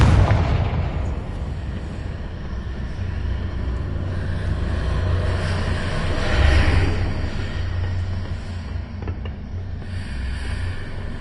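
Confringo spell explosions in the video game Hogwarts Legacy, a heavy boom at the start followed by rumbling blasts and combat noise, with another swell midway and no talk.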